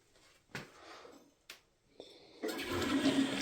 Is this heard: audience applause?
no